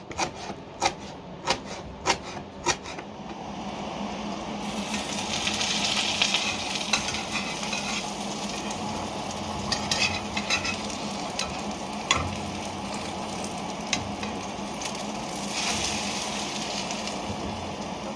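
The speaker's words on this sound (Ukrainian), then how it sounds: "Я вбила два яйця, сільки. І зараз кину на сковорідку." A steady sizzle of eggs frying in a pan, with occasional sharp clicks and taps over the hiss, louder for a stretch in the middle.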